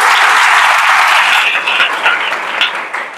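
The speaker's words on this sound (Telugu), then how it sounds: "ఒకసారి గట్టి చప్పట్లు కొట్టండి." Students at a school motivation class in Kishannagar, Shadnagar clap loudly as a group, producing a dense, continuous burst of applause that holds steady and then tapers slightly toward the end.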